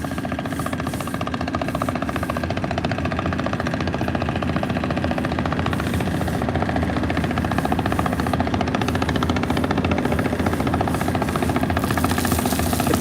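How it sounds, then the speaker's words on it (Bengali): Cargo trawler boat on the river near Sadarghat launch terminal, its engine a loud steady throbbing drone with rapid knocking pulses, continuous and close for the whole stretch without speech. "ট্রলার যাচ্ছে দেখতে পাচ্ছেন আর একটি ট্রলার জিঞ্জিরা থেকে আসতেছে অসম্ভব গতিতে"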